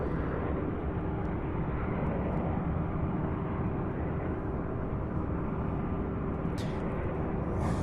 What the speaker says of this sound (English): We have an A300 out of Billings, Montana on short final now, getting ready to come in for a landing here.